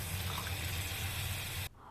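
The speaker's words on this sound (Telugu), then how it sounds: "ఒక కప్పు వాటర్ వేసుకొని మరోసారి బాగా కలుపుకోవాలి" A cup of water pours into a pan of fish curry, making a steady, full gushing splash close by that runs nearly two seconds and then cuts off abruptly.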